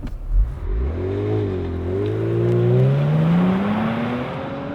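A 2018 Kia Stinger launches hard under launch control, its engine note climbing in a smooth, rising rev sweep that holds strong and loud inside the cabin over nearly five seconds.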